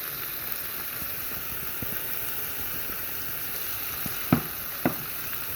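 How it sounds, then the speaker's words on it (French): Minced meat browns in a pan, seasoned with pepper and herbes de Provence, giving a steady soft sizzle throughout, with two brief clicks of a utensil near the end. "Maintenant, on va faire revenir notre viande."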